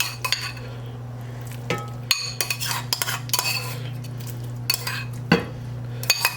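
A metal spoon scrapes and clinks against a pot as vegetables are spooned back around a roast, giving irregular close clatters over a steady low hum.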